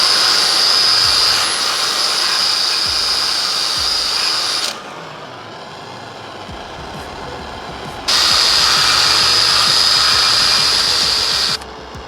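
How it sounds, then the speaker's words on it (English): A power drill spins a brass piece against a steel surface to rub golden color onto the metal, giving a loud, steady high-pitched whirring grind that cuts out for a few seconds in the middle before starting up again. "You don't need to apply a lot of pressure with the drill to the metal whenever you're doing this."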